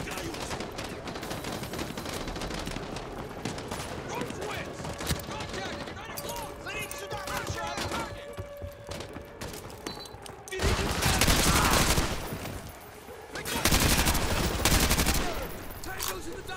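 Dense gunfire from the Call of Duty: Modern Warfare 2 Campaign Remastered, with rapid automatic bursts and heavy fusillades running throughout, swelling into louder, harsher volleys toward the end.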